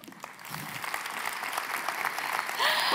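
Clapping from an audience at an evening event in Paris, a broad continuous wash of applause that swells and grows louder toward the end.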